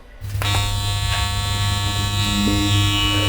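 A Temu electric toothbrush buzzes loud and close in a steady, unbroken drone that starts abruptly and holds for several seconds, with no talking.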